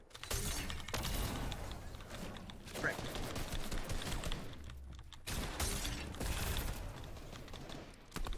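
Video game gunfire crackles in steady bursts with dense mechanical clatter throughout, dipping briefly around the middle, while a voice talks over the action.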